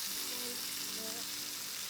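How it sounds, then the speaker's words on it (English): Lamb rump sears flesh side down in a hot pan, giving a continuous, fairly faint frying hiss with a low hum underneath. "we're now going to turn over onto the flesh side to lightly brown and caramelize the flesh for flavor"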